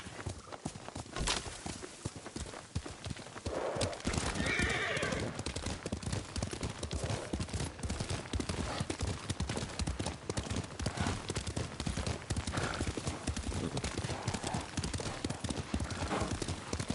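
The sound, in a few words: horse hooves and whinny, Ghost of Tsushima video game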